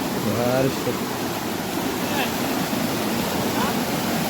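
Water swollen by a full day of rain rushes in a steady, loud wash, with brief voices and faint sounds near the start.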